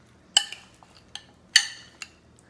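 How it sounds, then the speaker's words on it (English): Sharp clinks and scrapes of a utensil against a bowl while a salad is stirred, a handful of separate close strikes spaced irregularly over a quiet background. "So again, I'm gonna stir a little bit more."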